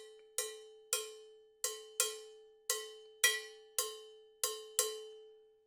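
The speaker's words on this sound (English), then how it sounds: "One is the standard 3-2 clave, which sounds like this." A cowbell plays the standard 3-2 clave rhythm for a rumba guaguanco groove, with bright, sharp, ringing strikes grouped three then two and repeating over about two cycles, close and alone with no voices.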